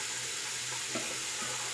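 Steady hiss of water running from a tap to warm a razor for shaving, constant and fairly quiet, with no voices.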